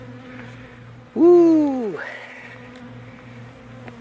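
Honeybees hum steadily throughout a hive removal into a top bar hive with smoke, with one man's brief loud exclamation cutting in near the middle.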